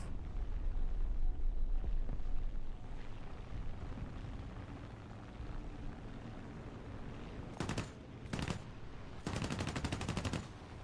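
Rapid bursts of autocannon fire from a US ADATS air-defense vehicle in War Thunder ground battle, three short clusters of shots near the end over a low rumbling engine background.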